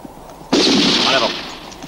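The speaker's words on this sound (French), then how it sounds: "On a entendu des coups de feu." A gunshot blast in a western film, one sudden loud crack at about half a second that stays as a long broad rumble and echo fading slowly, with no talking over it.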